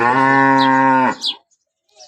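A single loud, close cow moo holds steady for about a second, followed by brief faint bird chirps.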